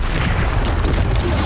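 A Bombarda and Confringo spell detonates in the Hogwarts Legacy video game, a loud, dense low rumbling boom that fills the whole moment with sustained blast energy and no talk.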